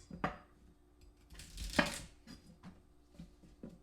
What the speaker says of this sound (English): Just gonna cut off the bottoms.